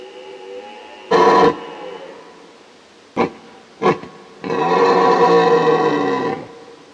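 A deep, hoarse red deer stag bellows during the rut in several bursts: one short roar, two brief grunts, then a long drawn-out rasping call, with no other sound around them.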